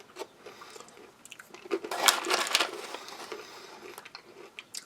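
Crunchy sugar-coated peanuts being chewed close up, a run of soft crisp bites and crunches that peak midway and fade into quieter mastication, with no talking.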